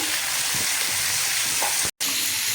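Ingredients frying in a pan for Bengali bhorta, a loud continuous sizzle with the occasional scrape of stirring, close up, cut by a brief moment of silence.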